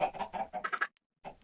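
Clucking chickens on a video game chicken farm, several quick clucks in a row, a short silent gap, then more clucking, up close and clear with no voices.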